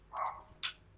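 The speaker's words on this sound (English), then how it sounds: "Bark. Okay, that is my dog." A dog barks twice in quick succession somewhere in the house, a lower yelp followed by a sharper, higher one, both faint and brief.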